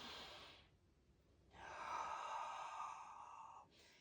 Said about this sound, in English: Wherever you are, take another deep breath